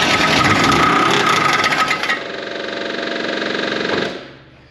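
A 55-year-old Land Rover 109 Series 2A, sitting for 15 years, runs with a rapid, buzzing, sewing-machine-like chatter as its fan hits the radiator. The engine is close and loud, with a shift in tone partway through before it cuts off.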